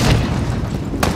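A missile explodes in the video game Call of Duty: Modern Warfare, landing as a loud, deep boom that rumbles on, followed about a second later by a second sharp blast.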